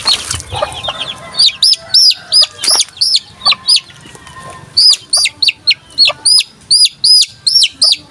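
Gamecock roosters sick with coryza give rapid, repeated high chirping clucks in rhythmic bursts, fairly loud and close, with brief gaps between calls.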